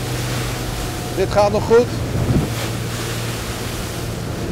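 A Honda motorboat runs through short, choppy, peaky waves, with a steady engine drone under loud wind buffeting and splashing water, while a person briefly speaks in Dutch.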